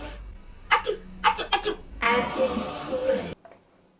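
A few quick breathy catches build up into a single loud, drawn-out sneeze close to the mic, then it goes quiet.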